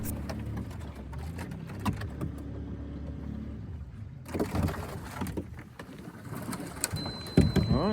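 An outboard boat motor runs steadily among ice floes, a low continuous drone with sharp knocks and scrapes of ice against the hull, growing busier and louder toward the end.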